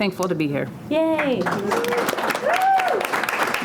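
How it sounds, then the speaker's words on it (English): An audience applauds and claps steadily at a creative agencies panel of female founders, the clapping running under cheerful talk from the stage. "lot of clapping. I love it."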